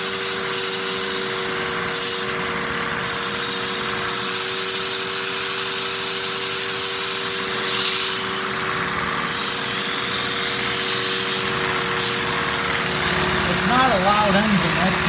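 A LEGO V10 vacuum engine with five cylinders per manifold runs smoothly and quietly, giving a steady whirring hum with airy hiss, close by, with a person talking over it.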